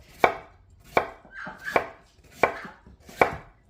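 A knife slicing potatoes thin on a cutting board, five crisp, evenly spaced chops close by, each a sharp tap with a brief scrape between.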